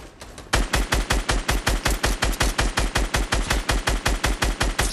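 Rapid automatic gunfire from a video game weapon, a steady burst of evenly spaced loud shots, about five per second, running continuously after a brief quieter lead-in.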